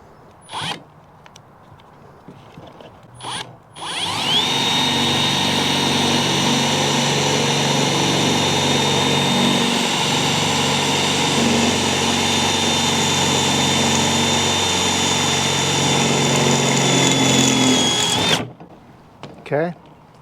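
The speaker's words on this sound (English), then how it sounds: "We'll drill out this other hole with the KnKut" A power drill with a KnKut bit bores a hole in wood, whirring steadily for about fourteen seconds, loud and close, after a couple of brief starts, then stops abruptly.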